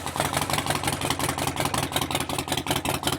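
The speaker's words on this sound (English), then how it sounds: "we're going to start the bike up, let it warm up just a little bit to make sure the oil level is good" A Harley-Davidson Sportster 48 motorcycle engine runs at a steady idle while warming up, a loud, close, continuous pulsing throb with no voices.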